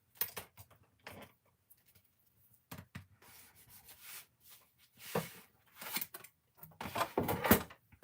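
Scored cardstock being folded over into a 5x7 card base: soft, intermittent rubbing and creasing scrapes with light taps, close and quiet, growing busier toward the end.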